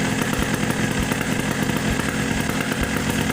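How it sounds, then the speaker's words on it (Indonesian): A Yamaha RX King two-stroke motorcycle engine runs steadily during carburetor adjustment, giving a loud, buzzy, uneven idle with rapid rattling pulses close to the listener and no talking. "Nah, jadi suara mesinnya agak berebut ya teman-teman."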